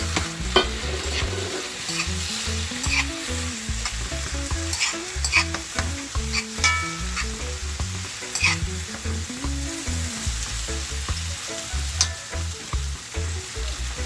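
Pepper, tomato and sauce go into a hot pan for Jamaican steamed fish and sizzle steadily. A spoon stirs and scrapes in repeated rhythmic strokes close up, with no talking.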